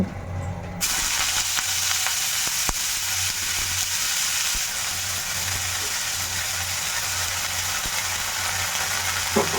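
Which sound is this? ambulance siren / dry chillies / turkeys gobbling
dry chillies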